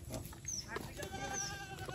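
A goat bleats briefly on a farm, short cries over quiet background noise from nearby livestock, with faint indistinct voices in the distance.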